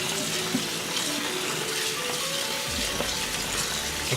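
Cool tap water running steadily while konjac noodles are rinsed, a close continuous splashing stream with small clicks from handling.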